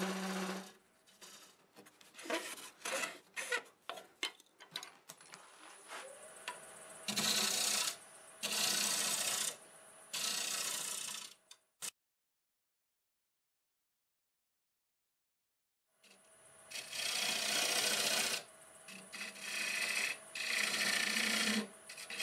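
A wood lathe turns a London plane bowl at about 900 RPM as a tool cuts the wood, giving bursts of raspy, scraping cutting noise separated by pauses, with a long silent gap midway before the cuts resume.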